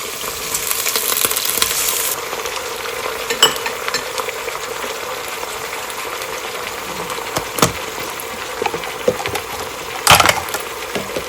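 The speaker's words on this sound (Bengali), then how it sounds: "এখন এতে দিয়ে দিচ্ছি ভুড়িগুলো" Tripe frying in a pan with chopped onion, with a steady broadband sizzle throughout and occasional sharp scraping stir strokes and clinks, louder at the start and near the end.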